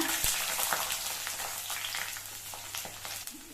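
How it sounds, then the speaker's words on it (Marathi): Onion frying in hot oil with curry leaves, a continuous close crackling sizzle with scattered pops and spits throughout. "कांदा ब्राऊन होईपर्यंत तेलामध्ये भाजायचा आहे"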